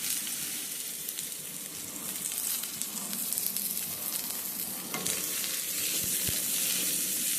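Chopped onions and green chillies sizzle and crackle steadily in hot oil, a continuous close frying hiss with no voices.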